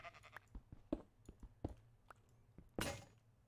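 Sheep bleating in the video game Llamaland, a few short cries in a quiet game scene, followed by a brief loud crash-like burst near the end.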